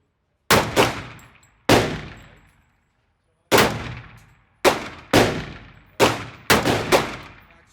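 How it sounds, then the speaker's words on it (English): A Smith & Wesson M&P 10mm pistol fires on an outdoor range at about seven yards, with seven loud, sharp shots and brief ringing decay: two quick shots, a pause, one shot, a longer gap, then an irregular run of five. "5 shots at 10mm, Smith & Wesson, on the range."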